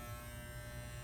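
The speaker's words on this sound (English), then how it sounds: "I'm using a number 2 on my clippers" Electric hair clippers with a number 2 guard cut hair in a men's undercut, a faint steady motor buzz held briefly and close.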